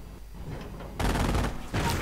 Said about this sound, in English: Mortar rounds going in